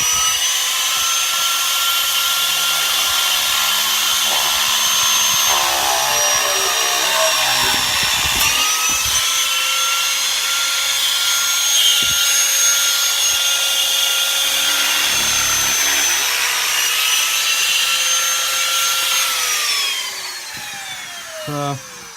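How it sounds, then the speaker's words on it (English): Makita power shears cut car body sheet metal on a classic Mini's heel board and rear wheel arch, producing a continuous high whining buzz with shifting tone and steady loudness for about twenty seconds before stopping. "Makita shears."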